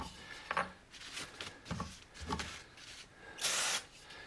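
Soft rubbing and wiping sounds with a paper towel lead up to one sharp, close hiss of a cleaner spray bottle near the end, during a Husqvarna 266/268 chainsaw rebuild.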